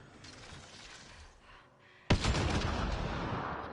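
A mine exploding in Mass Effect: Andromeda: a low background hum, then a single sudden loud blast followed by a sustained rumbling roar.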